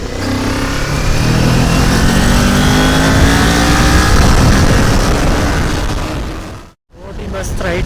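Kawasaki Ninja 400 motorcycle riding on a road from Kargil to Leh in Ladakh, a loud sustained engine drone with rising revs and wind rush, then a brief cut.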